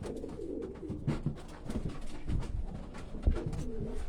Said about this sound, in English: A couple of birds in there.